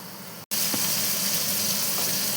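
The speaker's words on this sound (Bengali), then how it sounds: "বেগুনটা আমার ভাজা হয়ে গেছে।" Eggplant pieces sizzle and fry in hot oil in a pan for a Bengali shukto, giving a close, steady crackling hiss. A brief dropout occurs near the start.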